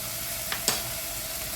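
Garlic cloves frying in a pan for soup, a steady soft sizzle close by with a couple of brief clicks as the pieces go in.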